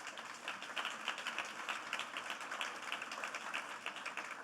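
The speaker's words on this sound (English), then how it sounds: "Let's give them a huge round of applause." Conference audience applauding at an opening session, a fairly faint, dense, even patter of many hands clapping continuously with no voices over it.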